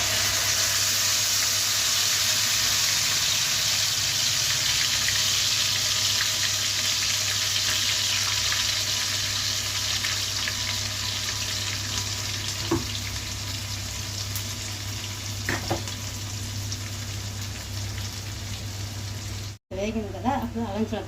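Spices such as bay leaf and cinnamon fry in hot oil in a pan for a paneer kurma, giving a steady, close sizzle with a few brief clinks of stirring, and it stops abruptly near the end.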